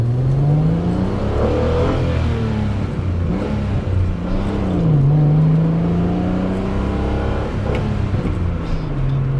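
Alfa Romeo GTV6 with a 2.5 engine, heard from inside while driving: a close, steady engine drone rising and falling through revs with a shift midway, no talking over it.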